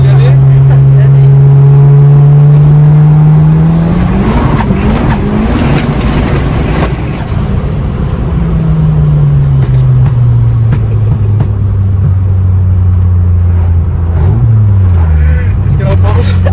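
A 450 hp Volkswagen Golf 2 roars loudly at close range during a burnout, its engine holding a high droning note before the revs dip and climb again, with voices faintly present beneath.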